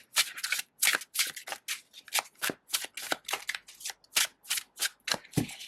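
A deck of tarot cards is shuffled and drawn in a quiet room, giving a run of crisp riffling and snapping bursts in a fast, irregular rhythm, close and alone.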